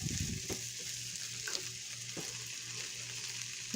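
Kielbasa sausage sizzles steadily in a hot pan as it fries, a constant close hiss with a few soft stirring clicks and no voices.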